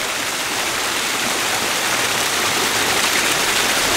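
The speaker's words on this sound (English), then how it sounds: "the water you can hear also is we're right by the fountain" Steady splashing of fountain water right nearby at a Bay Lake area spot in Orlando, a dense continuous hiss of falling water that holds constant and loud throughout with no talking.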